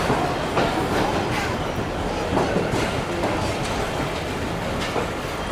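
The Karakoram Express rolls out of a station in Pakistan, a loud, close, continuous rumble with rhythmic clickety-clack of wheels as it gathers speed.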